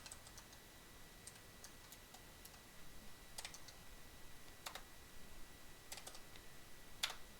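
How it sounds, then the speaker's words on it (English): Keys clicking on a new mechanical keyboard, sparse isolated keystrokes and small bursts of typing at close range, fairly quiet against a steady hiss with no talking. "My first mechanical keyboard."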